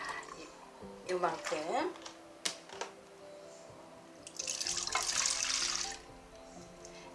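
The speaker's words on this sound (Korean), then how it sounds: "진간장을 4분의 3컵을 넣겠습니다." Soy sauce is poured into a cup while making garlic scape pickles, a short, soft trickling pour heard near the end after a brief spoken word and a few small knocks.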